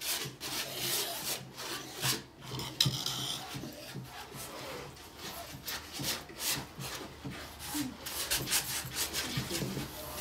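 A palette knife smooths paint across a canvas in repeated rasping, scraping strokes, close and fairly loud, with a rubbing texture that continues steadily throughout.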